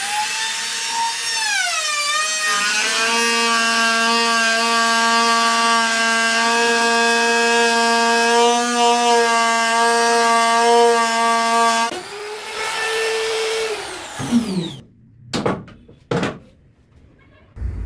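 An electric wood trimmer router with a roller guide runs loud and steady at high speed, holding a sustained whine for about twelve seconds, then its pitch drops as it cuts a groove in wood, followed by a few sharp bursts as it stops.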